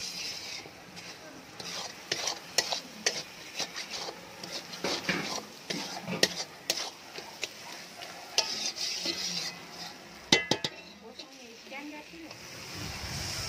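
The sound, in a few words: spice paste with turmeric, chili powder and salt being stir-fried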